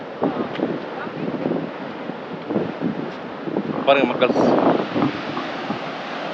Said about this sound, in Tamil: பார்த்தீங்கன்னா இப்போ தான் அலை வருது பாருங்கள் அரபிக்கடலில்